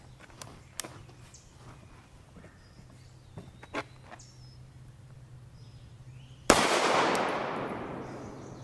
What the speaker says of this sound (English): we'll try the Fort Scott Munitions 80 grain solid copper spun out of the Glock